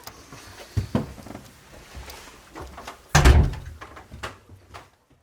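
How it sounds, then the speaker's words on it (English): A door swings shut with a loud thump in an old basement dungeon, preceded by fainter knocks and shuffling, then a few softer clunks after the main impact. "I'm going to close the door behind you."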